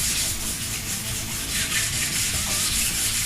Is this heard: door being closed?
no